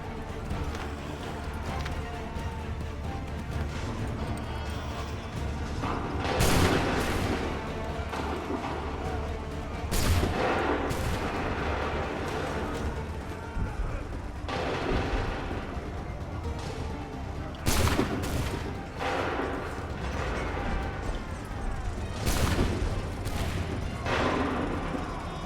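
Cannon fire in Assassin's Creed 3, heavy booming blasts landing in scattered bursts, some doubled, over a steady bed of battle noise with hoofbeats and shouted voices.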